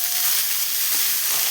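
Sliced onions drop into hot oil in a pan and fry with a dense, even, close sizzle that holds steady throughout the short stretch, with no talking.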